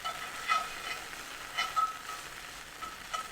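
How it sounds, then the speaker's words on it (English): Mustard cooks over low heat in a pan, giving a soft, steady sizzle with a few brief louder crackles, fairly quiet and with no one talking. "Just a little bit of sizzling."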